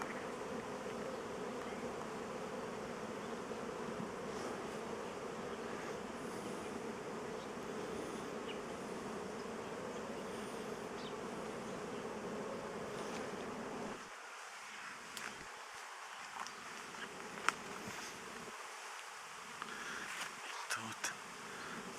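A dense, steady hum of many bees buzzing close by, continuous for most of the time, thinning out toward the end with individual buzzes passing.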